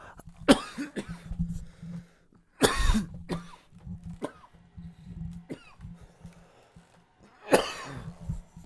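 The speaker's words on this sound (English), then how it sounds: "That's why I'm coughing." A person coughs in several harsh, close bursts spaced a few seconds apart, with quieter throat sounds and breaths between them in an otherwise quiet room.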